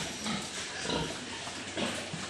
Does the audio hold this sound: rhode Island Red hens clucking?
no